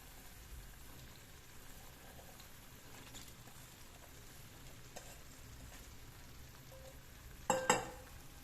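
Val beans drop into hot oil for a Maharashtrian birda, giving a faint, steady low sizzle with a brief louder crackling burst near the end.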